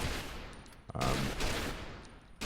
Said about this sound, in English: It's got the most amazing sound of any gun in the game, in my opinion.